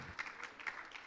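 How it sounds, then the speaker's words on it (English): Scattered applause from a small audience at a test question session, a brief faint burst of clapping with no talk over it. "All right, round of applause."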